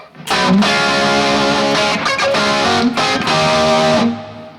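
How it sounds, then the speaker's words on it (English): Electric guitar chords with chamber reverb ring out loud and sustained, wrapped in a roomy, lingering reverb tail, with brief breaks between strums. "this is what it sounds like with the chamber reverb added"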